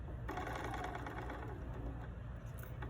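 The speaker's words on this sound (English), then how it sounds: "Go back to your machine, sew your 1/4" seam again." A sewing machine runs a quarter-inch seam on a pillow, its motor whirring steadily and close by after a brief pause at the start, with no speech.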